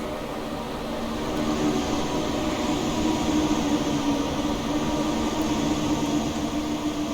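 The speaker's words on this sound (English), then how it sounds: "There it comes, our train." ICE3 high-speed train arriving at a station in the Train Sim World video game, a steady rumbling roar that swells slightly as it draws in, with no voices.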